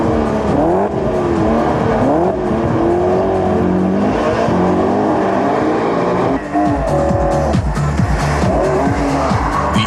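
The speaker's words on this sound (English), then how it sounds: "The M3 displays its good handling characteristics on the test track, particularly in wet conditions." A BMW E46 M3 is driven hard on a wet test track: a loud, continuous engine note rises and falls in pitch with each rev, and tires squeal and skid throughout. No voices.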